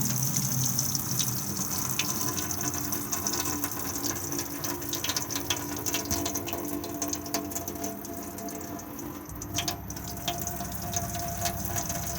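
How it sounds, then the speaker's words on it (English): The water pump in an Auto-Sleeper Symbol motorhome runs steadily, a continuous mechanical whirr mixed with the rush of flowing water, heard up close and even in level throughout. "This one here turns the water pump on."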